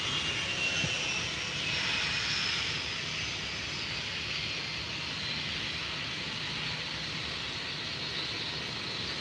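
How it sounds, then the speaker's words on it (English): A United Boeing 757 jet taxis at Faro Airport in the early morning. Its engines give a steady, moderately distant whine and hum that holds evenly throughout, with no voices. "the United is starting to taxi now. So we'll see that one take off"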